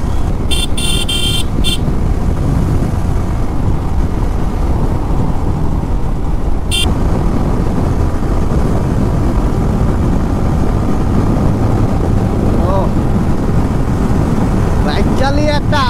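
A motorcycle ridden along a sunny road gives a constant loud roar of engine and wind rush, with a few sharp horn toots near the start and again around the middle.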